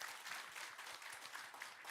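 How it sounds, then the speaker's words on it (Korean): Church congregation applauding together, a steady wash of clapping from many hands at moderate distance, dense and continuous for the whole stretch with no voices on top. "여러분 박수 한번."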